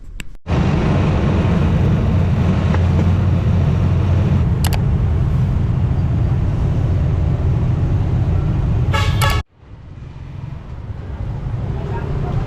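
Tricycle ride in La Union: a loud, constant motor drone and road rumble close by, with brief clicks and rattles, a sudden drop in noise near the end, then the engine building again.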